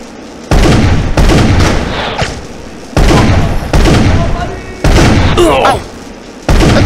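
Gunfire in the video game Darkenstein, loud bursts of rapid shots in several separate blasts with short quiet gaps between them, no talk heard.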